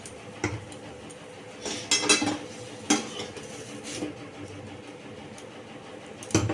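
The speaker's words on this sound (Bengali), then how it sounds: "একটা সার্ভিং বোল নিয়ে নিচ্ছি ওর মধ্যে কড়াই থেকে তুলে নিচ্ছি শাপলাটা" A spoon scrapes and clinks against a wok as cooked water lily with coconut and mustard is scooped into a serving bowl, a few sharp knocks over a quiet kitchen background.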